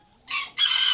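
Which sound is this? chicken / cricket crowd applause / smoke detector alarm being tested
chicken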